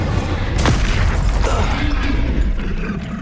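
Incendio fire spell cast in Hogwarts Legacy during a fight: a sharp whoosh and crack bursts out just after the start, followed by a dense, roaring low rumble of battle that stays loud throughout.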